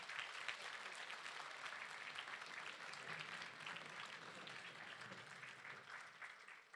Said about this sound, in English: I think you would agree that deserves another round of applause.